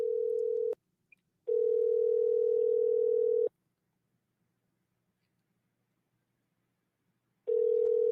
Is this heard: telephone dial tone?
yes